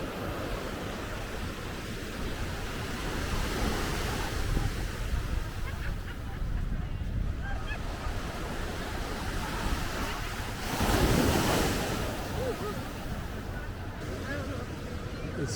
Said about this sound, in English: this is a Waikiki Beach